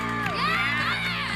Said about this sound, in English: There's like a whole crowd of people.